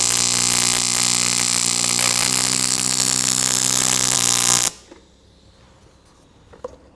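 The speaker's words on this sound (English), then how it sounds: "These were like some of the early tacks I got to go weld through." TIG welding on aluminum tacks with an ArcCaptain TIG 200P: a loud, steady buzzing arc hum with a high hiss that cuts off abruptly near the end, leaving quiet room noise and a faint click.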